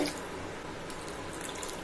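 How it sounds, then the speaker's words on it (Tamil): Water pours into a pot in a steady, even stream, a continuous close splashing rush with no break. "மூணு டம்ளர் தண்ணி ஊற்றிடலாம்"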